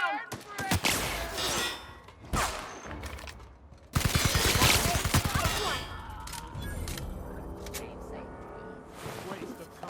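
Bursts of rapid gunfire in The Outer Worlds at Devil's Peak Station, loud fusillades that stop and start over ten seconds, mixed with shouting voices and combat noise.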